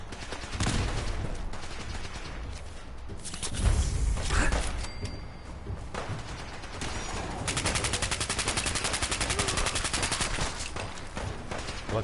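Handmade rifle gunfire in Fallout 4 Far Harbor: repeated bursts of shots and a stretch of rapid automatic fire, with mechanical clatter and thumps between volleys, moderately loud.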